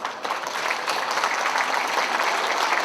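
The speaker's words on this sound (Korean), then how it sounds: "우리 모두를 박수 한번 칩시다." Dense, steady audience applause at the opening ceremony of an art fair in Gwangju, a continuous bright roar of many hands clapping at close range, no talk over it.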